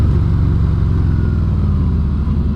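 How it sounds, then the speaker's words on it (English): A Harley-Davidson motorcycle braking hard as the rear tire locks and the ABS pulses, a loud close engine drone with rapid low-pitched pulsing throughout. "A little bit of ABS there on that rear tire lockup."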